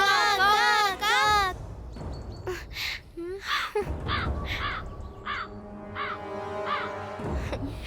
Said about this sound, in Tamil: நான் வந்து கூப்பிட்ட உடனே காக்கா வந்துருச்சு